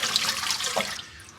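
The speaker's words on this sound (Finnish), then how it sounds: "nythän mä vaan kaadan täältä nämä vedet pois" Water poured out of a sand separator well at a sharpening station, a steady rushing splash with a brief surge near the middle before tapering off, close and continuous.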